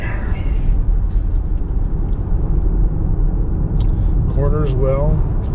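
A 2024 Infiniti QX60 Autograph AWD SUV drives on a mountain road, its steady low road and engine rumble filling the cabin while someone talks over it.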